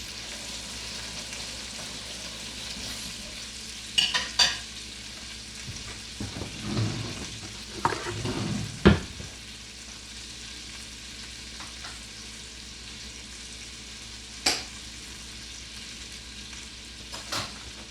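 Steaks frying in butter in a pan, a steady background sizzle with a cluster of clatter and scraping in the middle and a few sharp knocks, heard close with no one talking.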